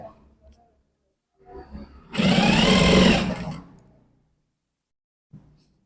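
A sewing machine stitches the collar of a men's kameez in a brief, loud whirring run of about a second and a half, framed by quiet handling noises before and after.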